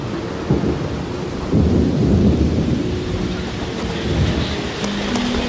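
Afternoon downpour over a bay in mountain gorilla country: dense, even rain noise with a deep thundery rumble rising and falling beneath it, fairly close and unbroken, with no one talking.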